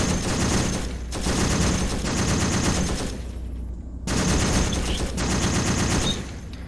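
A door gunner fires a machine gun in the video game ArmA 3, in loud, continuous rapid bursts over a constant engine drone, with a short pause in the middle before firing resumes.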